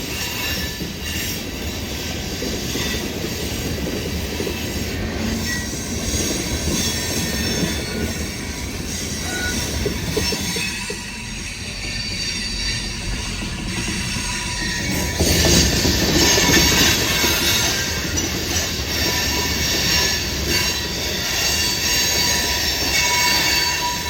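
A long freight train rumbles past with clattering railcars and high metallic wheel squeals, loud and continuous, swelling louder toward the end.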